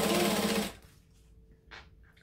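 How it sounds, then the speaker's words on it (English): A sewing machine runs loud and steady as it stitches along the top edge of a fabric clutch bag, then stops abruptly partway through, leaving a quiet hum with a small click afterward. "And then I'm just going to stitch along the top."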